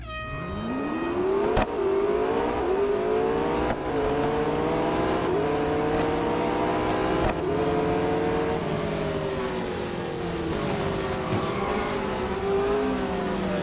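Race car engine in the Real Racing 3 video game, revving hard and steadily through gear changes, with rising and falling pitch sweeps and brief shifts, loud and continuous with no voices.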